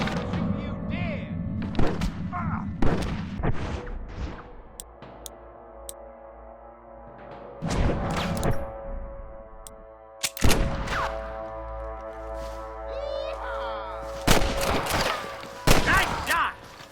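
Gunfire from a Red Dead Redemption shootout comes as scattered sharp shots and heavier thumps spread across the scene, some near and loud, separated by quieter stretches, with voices speaking between them.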